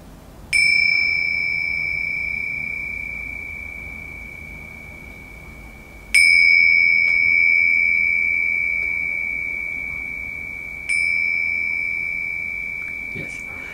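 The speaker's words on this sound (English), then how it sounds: "really the sound of the bell" Three high-pitched bell strikes ring at roughly even, rhythmic intervals, each a clear bright ding that lingers and slowly fades before the next, heard alone over a faint quiet background.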